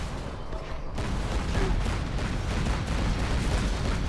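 Tanks being shot and destroyed in a video game battle, a continuous dense rumble of distant booms and artillery-like blasts layered into a loud, steady barrage without clear breaks.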